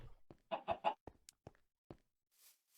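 Minecraft chickens clucking in the Stoneblock 2 modpack, a cluster of three quick close clucks followed by a few scattered short clucks and faint game sounds.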